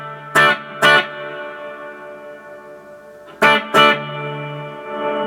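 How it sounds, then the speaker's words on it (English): Electric guitar through a spring reverb effect, sounding as two pairs of sharp strummed chords that ring out with a washy reverb tail between them. "I can add some reverb"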